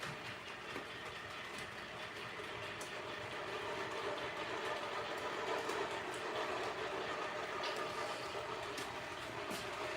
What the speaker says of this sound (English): Let's get this Amtrak on the main line.